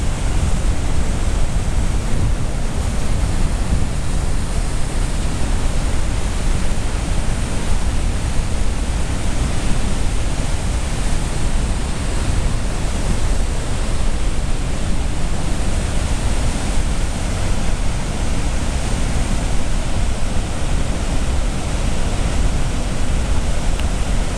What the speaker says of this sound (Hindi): नियाग्रा फॉल में इस वक्त यहाँ पे पानी जो है वो नीचे गिर रहा है।